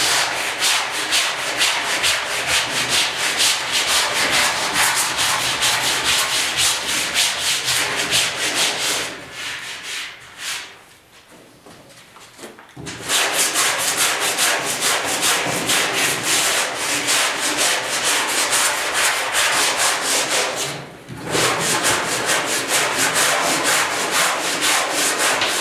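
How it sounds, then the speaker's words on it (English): Steady back-and-forth sanding of soft body filler on the bed of a 1972 Ford 4x4 short-box truck, loud and close, with two short pauses in the rubbing. "Nice thing too about sanding when your filler's a little softer, if you got a little spot on the edge, this sands off easy"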